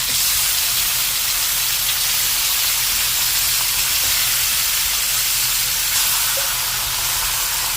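Chicken pieces hitting a hot pan for a creamy chicken dish, setting off a loud, dense, continuous sizzle and hiss that holds steady throughout, close up with no talking.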